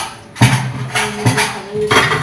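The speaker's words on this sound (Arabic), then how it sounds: "نجيب بقى معلقه كده ونقلب" A metal spoon stirs vermicelli frying in hot oil in a pan, giving a few clattering scrapes and knocks against the pan at an uneven pace, close up, over a soft sizzling bed.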